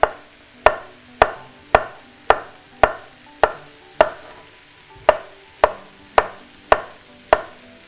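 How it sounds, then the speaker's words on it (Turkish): A knife chops zucchini on a board for a lasagna, with about a dozen crisp, evenly spaced strikes at a steady rhythm, close and loud, with no talking. "Bunları doğramaya devam edeceğim."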